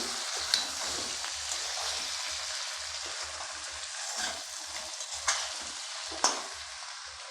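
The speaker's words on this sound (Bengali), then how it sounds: "ভেজে রাখা চিংড়ি মাছগুলো দিয়ে দিলাম" Fried prawns sizzle in a pan for a Bengali chingri malaikari, a steady broad hiss with a few sharp clicks and stirring scrapes, close and moderately quiet with no talking.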